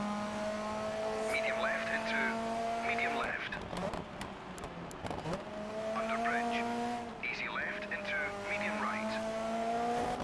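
A car's engine drones steadily in the Dirt 3 rally racing video game, with rising and falling revs and bursts of tyre squeal and skidding over about ten seconds.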